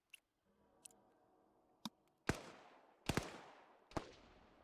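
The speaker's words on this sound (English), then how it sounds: "I'm hearing a few gunshots back here" A few sharp video game gunshot cracks, three louder ones with ringing tails, over faint ticking clicks and a low background hum.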